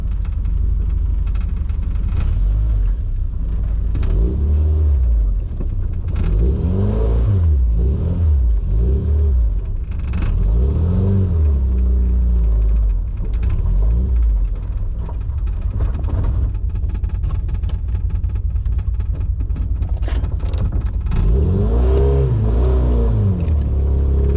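A Triumph Spitfire car engine revs up and down repeatedly, loud and close, with rising and falling pitch sweeps between steadier rumbling stretches.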